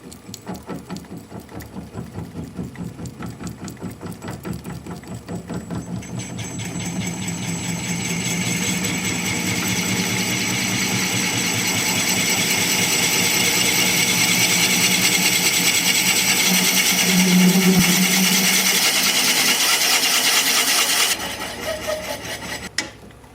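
A wood lathe spins an end-grain, live-edge winged bowl at about 287 RPM while a freshly sharpened bit bores a 2-inch hole, giving a steady, close grinding whir that builds in intensity and then stops abruptly near the end, with no talking.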